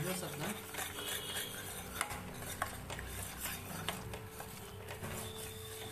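A spoon scraping and stirring gram flour (besan) as it roasts in a pan for a Punjabi sweet, steady close clinks and scrapes with faint sizzling throughout, no talk.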